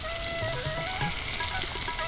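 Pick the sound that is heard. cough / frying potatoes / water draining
frying potatoes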